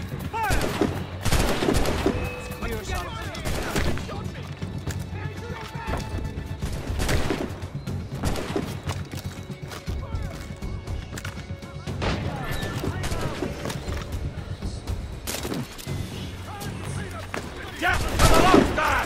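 Musket volleys ring out in Assassin's Creed Rogue, loud repeated bursts of gunfire scattered across a chaotic battle, with horse hooves, crashes and shouting voices mixed in.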